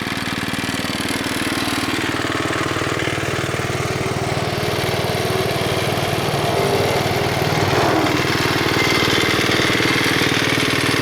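A Bolens Husky 600 garden tractor engine runs steadily at a fast idle, a loud, close, even mechanical drone with a faint rattle from the steering wheel, continuing without pause.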